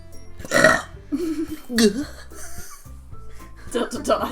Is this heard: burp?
yes